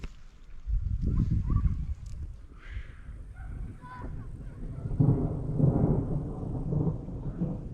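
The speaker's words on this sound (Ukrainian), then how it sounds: "І вже шумить, гримить трохи." Low thunder rumbles in rolling waves, deep and sustained, with a few faint birds calling faintly in the background.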